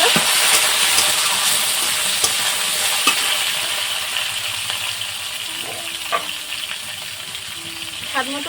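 Eggplant pieces frying in hot oil with dried red chilli and black cumin in a home kitchen, giving a steady close sizzle and hiss throughout, punctuated by a few sharp clinks and scrapes of stirring.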